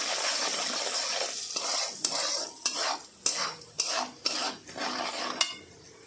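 A spoon scrapes and clinks against a pan, stirring pickle masala and red chilli powder into hot tempering for poha cutlets. Irregular sharp metallic knocks ring over a soft sizzle, close and fairly quiet.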